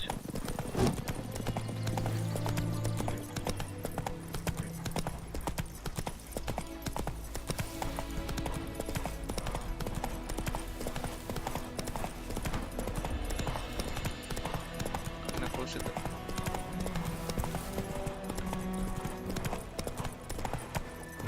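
Roach the horse gallops through The Witcher 3, hoofbeats clip-clopping in a steady rhythm over a constant game soundtrack, with a brief whinny near the start.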